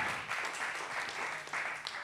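Comedy club crowd keeps clapping for a stand-up comedian, a steady dense patter of hands at moderate volume that continues without a break.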